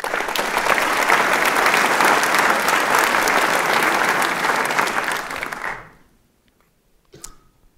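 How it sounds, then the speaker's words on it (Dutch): A congress audience applauds after a political speech, a dense, loud wash of clapping that holds steady before fading out abruptly into near silence, followed by a faint knock. "APPLAUS"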